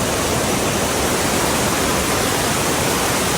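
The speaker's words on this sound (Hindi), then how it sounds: "हम एक नाला क्रॉस करने जा रहे हैं। ये ग्लेशियर से पानी आता है" A glacier-fed mountain stream in the Neelum Valley of Kashmir rushes loudly and steadily, a dense, unbroken hiss of flowing water close by with no voices.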